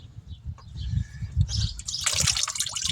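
Hot oil draining and trickling from an oil filter on a 2006 Ford Mustang GT during an oil change, a close, steady liquid dribble that grows into a fuller splashing pour.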